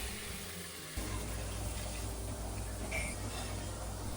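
Water pours steadily into an electric pressure cooker pot with rice, a continuous gushing splash that starts abruptly after a brief quieter moment.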